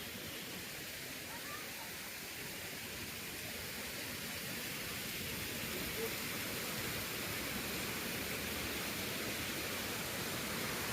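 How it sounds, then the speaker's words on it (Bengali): A huge hillside waterfall gives off an even, unbroken roaring wash that stays constant and fairly close throughout, with no voices on top. "বিভৎস ঝর্ণা এটা।"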